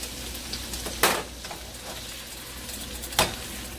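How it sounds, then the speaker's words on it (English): Yellow onions sizzling steadily in a pan for chicken fried rice, a constant close frying hiss broken by two sharp louder crackles or stirs, with no talking. "I'm going to go ahead and add my onions"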